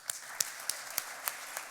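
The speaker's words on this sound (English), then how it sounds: "Please welcome him with a round of applause." A few faint, evenly spaced claps ring out at a launch event for an audience welcoming a speaker, six sharp slaps about a third of a second apart in a quiet room.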